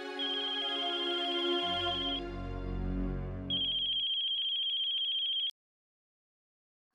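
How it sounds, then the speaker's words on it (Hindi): A phone ringtone plays, a melodic electronic tune with a low bass line that switches to a sustained high tone, then cuts off abruptly into silence. "1 मिनट, वर्षा का फोन है।"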